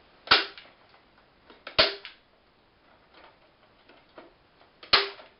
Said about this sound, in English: a staple gun works just as well. So just going to staple one on each corner, hold it down